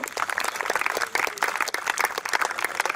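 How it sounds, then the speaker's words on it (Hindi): Audience of students applauding loudly at a JEE Advanced 2022 celebration event, a dense steady wash of clapping with bursts and swells throughout, close and continuous. "तो एक बार जोरदार तालियां अपने आप के लिए"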